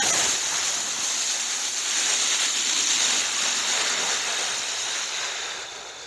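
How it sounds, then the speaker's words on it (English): A long, slow exhale through pursed lips, a steady airy hiss held close to the microphone for several seconds and fading slightly at the end. "we're going to breathe out as much air as we can as slowly as possible"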